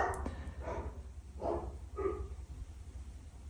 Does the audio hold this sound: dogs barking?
yes